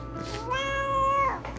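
A cat gives a single drawn-out meow, close and clear, rising then falling before trailing off, with a quiet room behind it.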